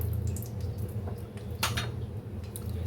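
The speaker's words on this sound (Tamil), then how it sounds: "இப்போது ஒரு கடாய் வச்சுட்டு அதில் நம்ம எண்ணெய் கொஞ்சம் விட்டுக்கணும்." A kadai set on a stove with a metallic clank, then oil poured in, bright clinks and a short liquid splash over a steady low kitchen hum, close and fairly loud, no talk.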